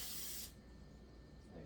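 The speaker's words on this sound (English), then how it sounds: "So we also need to spray these pans." A short burst of cooking spray hisses into a baking pan in a home kitchen, loud for about half a second and then cutting off to quiet room tone.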